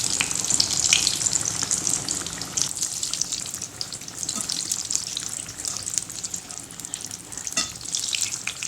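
Battered nendran banana bajji frying in hot oil, a bright continuous bubbling sizzle with occasional splashes and stirring, close and fairly loud.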